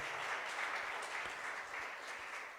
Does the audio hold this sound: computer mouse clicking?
no